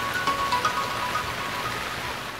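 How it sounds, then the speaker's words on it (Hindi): Heavy rain pours outside in a mountain setting, a steady close wash of noise that fades slightly toward the end, with no voices. "बाहर बहुत तेज बारिश आ गई"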